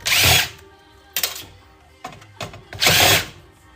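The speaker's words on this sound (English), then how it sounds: "Let's go ahead, take these screws out." A power drill spins out screws while old electronics are broken down for e-waste scrap, giving two loud whirring bursts at the start and end with brief clicks and rattles of handling between them.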